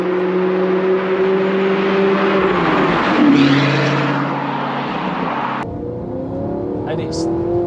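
An Aston Martin DB9 V12 or Audi R8 V8 sports car accelerates hard uphill in second gear, its engine note rising steadily and loud from inside the cabin, then easing off after a few seconds.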